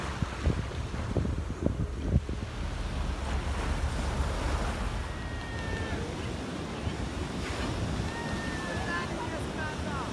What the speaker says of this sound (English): So this is Manly Beach, and I must admit, I've never been here before.